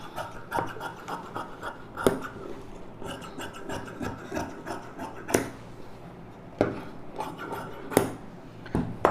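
Scissors cutting through blouse lining fabric on a table, giving repeated close rasping snips and rubbing scrapes with a few sharper clicks, no talking.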